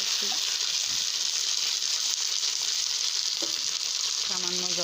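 Ground ginger-cumin paste sizzles and fries in a pan of oil with fried potatoes while being cooking for a Bengali fish curry, a steady loud hiss with a few stirring scrapes near the end.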